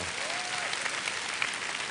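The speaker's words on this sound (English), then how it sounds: "Why don't you show your appreciation by clapping your hands?" A crowd of parents and fathers at a session claps in appreciation, a steady, dense wash of hands applauding at moderate distance without pause.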